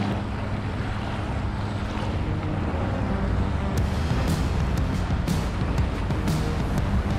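A motorized JetSurf board at full throttle on the water near a sandy beach in Destin, Florida, delivers a constant loud engine roar mixed with rushing water and wind buffeting the microphone.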